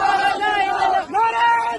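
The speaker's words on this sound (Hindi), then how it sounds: "ये भीड़ अलग अलग तरीके के नारे लगाती है" A crowd marching toward the Dasna temple chants slogans in unison, loud rising-and-falling voices in two sustained phrases with a short break between them, forceful and close.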